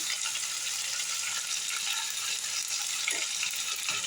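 Browned onion frying in a pan with ginger and garlic paste for a prawn poppy-seed dish, a continuous soft sizzle and crackle with occasional stirring scrapes, fairly quiet and steady with no talk.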